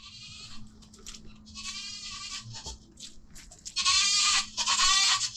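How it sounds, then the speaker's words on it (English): Goats bleating on a farm, several loud, close bleats in quick bursts with the strongest near the end, over a low steady hum. "Come on, goats! Let's go!"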